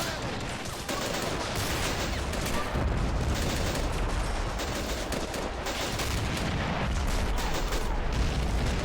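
Artillery and gunfire from the Men of War real-time strategy game during a Red Army mountain assault: a continuous, dense barrage of booms and shots at steady loudness for the whole stretch.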